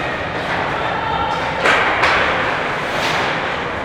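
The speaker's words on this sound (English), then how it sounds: "Listen closely, and you'll hear the echoing thud of the puck as it's passed between players, the slap against the boards adding another layer" A hockey puck thuds twice in quick succession, likely as it is passed and slaps the boards, over a steady wash of ice-rink noise during a collegiate women's game in Arizona.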